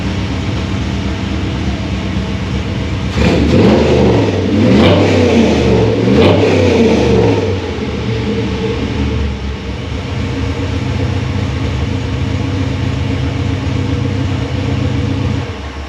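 A car engine fires up and revs hard in bursts, loud and rowdy, then settles into a steady rumbling idle.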